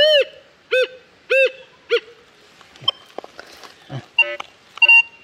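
A handheld metal detector passes over gold and gives four loud, warbling electronic beeps in quick succession. Softer scattered clicks and a few shorter beeps follow nearby.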